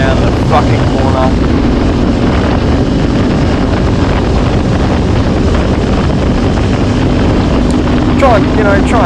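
A motorcycle rides hard through tight corners on winding Australian roads: a constant, loud roar of wind over a steady engine drone, with brief vocal bursts near the start and end.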